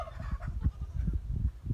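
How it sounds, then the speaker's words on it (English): Chickens cluck softly in a barn with a hay manger, a run of short, low, irregular calls close by. "oh, chickens."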